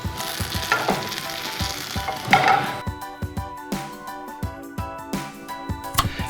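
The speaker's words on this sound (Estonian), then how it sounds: "paneme natuke õli, paneme õli sisse salveid, kuumutame veidi" Sage leaves fry in oil in a pan with a bright, steady sizzle, broken by sharp clinks and scrapes of a utensil stirring and knocking against the pan at close range.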